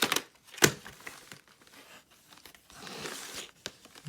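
Plastic wrapping on a VHS tape gets torn and crinkled open, with a sharp rip near the start and then irregular crackling and rustling up close.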